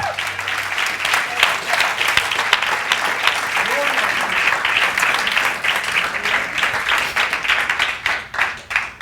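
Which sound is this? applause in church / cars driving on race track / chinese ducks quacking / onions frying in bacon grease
applause in church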